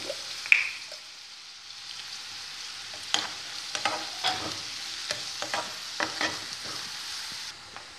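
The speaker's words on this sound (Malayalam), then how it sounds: "ഒരു ഗോൾഡൻ ബ്രൗൺ കളറിലേക്ക് ഇത് ആക്കിയിട്ട് നമുക്കിത് കോരി വയ്ക്കാം" Sliced onions fry in hot oil in a home kitchen for a curry, giving a soft continuous sizzle broken by scattered stirring scrapes and light spatters.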